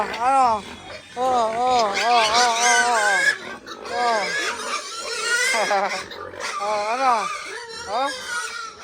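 Native cross pigs, including a hungry boar, squeal and grunt in rapid, loud bursts close by on a farm, with a person's voice talking among the animals.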